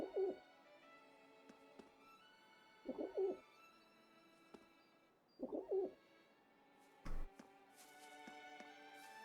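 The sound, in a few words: pigeon cooing in video game Trails into Reverie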